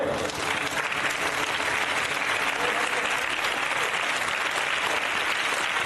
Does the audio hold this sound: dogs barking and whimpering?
no